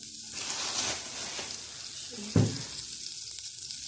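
Yellow butter melting in a hot pan gives a steady close sizzle and hiss, with one brief louder crackle partway through.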